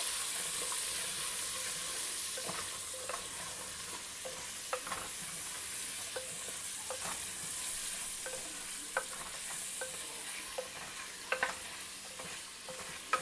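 Vegetables for vegetable sambar are stirred in a pot with salt, chilli powder and turmeric over a low flame, with a steady soft sizzle and scattered scraping clicks of a spoon against the pot throughout.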